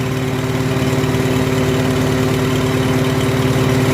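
A Farmall H tractor engine idling smoothly, a loud, steady low chugging with an even rapid pulse that holds constant throughout, close by and with no voices.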